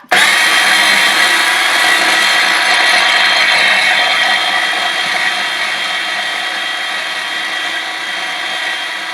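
A blender whirring steadily as it purees pesto until smooth, one loud continuous motor whine held close for several seconds, with no talking over it.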